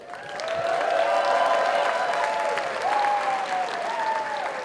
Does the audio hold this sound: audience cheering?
yes